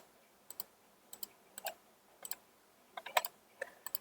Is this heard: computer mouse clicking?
yes